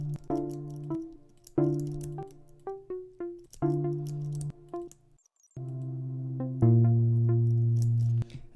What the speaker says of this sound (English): And you do this one with a pluck.